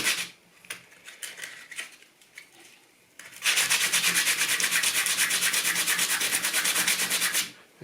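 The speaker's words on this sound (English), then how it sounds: "Let's just give the end of this a little sand." Sandpaper rubbed by hand on the end of a wooden table leg: a few light scuffs at first, then a steady, close, rasping back-and-forth scrub that runs for several seconds before stopping.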